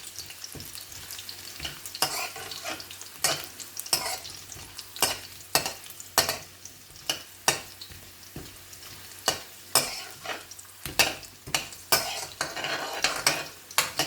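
Whole garlic frying slowly in a pan on low gas, a soft sizzle broken by repeated sharp scrapes and clinks of a utensil stirring against the pan, close and irregular.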